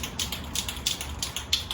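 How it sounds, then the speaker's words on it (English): A Krylon spray paint can shaken hard before painting a truck grill, its mixing ball rattling in a quick, regular rhythm of sharp clicks, close and alone. "shake it up real good before you start spraying"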